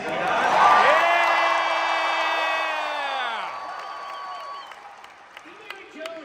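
A large crowd of fans at a D23 Disney fan event cheers, whoops and applauds loudly, with a long drawn-out shout that slides downward in pitch before the noise thins into scattered claps.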